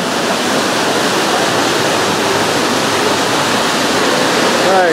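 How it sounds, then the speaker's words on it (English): A steady, loud rush of a waterfall at Wisconsin Dells, heard from a tour boat, roars continuously, a dense wash of white noise with no breaks. "Waterfall."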